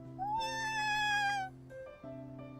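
A long, drawn-out cat meow followed by a shorter one in the video game DogDogDog, clear and close, over a steady electronic background tone.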